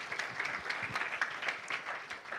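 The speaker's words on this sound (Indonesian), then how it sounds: "Ayo yang mengerti sekarang sorak-sorai dulu yang kencang buat Tuhan kita yang baik." A church congregation bursts into loud, sustained applause and cheering, dense clapping filling the whole stretch at an even level.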